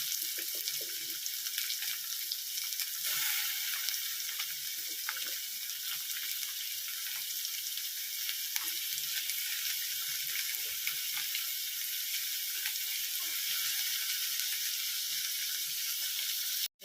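Curry leaves and onions crackle in hot oil in a pan while fenugreek curry is cooked, giving a steady, fairly faint hiss with small pops that runs unbroken throughout, with no one speaking.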